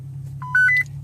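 A short sequence of electronic beeps from an Ostrich 2.0 ECU emulator confirming an operation, a few rising tones in quick succession over a low steady hum, clear and close.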